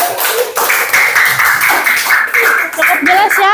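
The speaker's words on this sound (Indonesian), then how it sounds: "Tepuk tangan untuk kelompok 4." An audience in a classroom applauds a student group after their presentation. Dense, steady clapping runs for several seconds, loud and close, with some voices mixed in.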